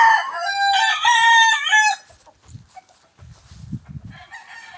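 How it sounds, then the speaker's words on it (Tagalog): Young gamefowl roosters (stags) on a gamefowl farm give a loud, close crow first. Fainter crows and low clucks from other birds follow, and no one speaks. "Hanggang doon po yung mga stags po nila saka mga manukan po nila doon sa may baba."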